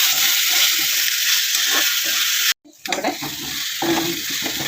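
Onion, tomato and crushed ginger-garlic paste sizzle loudly in a pan while being stirred, a steady frying hiss that cuts out briefly and resumes with scraping; a voice speaks a word in between.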